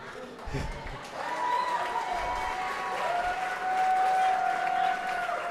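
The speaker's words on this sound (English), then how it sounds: "Let's give her another round of applause, please." Guests at a gala applaud and cheer, the clapping building and holding steady while whoops and a voice carry over the top of the crowd.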